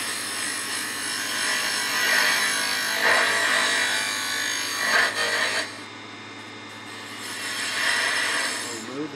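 Steady scraping rasp of a lathe chisel shaving wood as a bottle stopper is tapered into a slight curve, continuous and close with brief dips where the tool lifts, no voices.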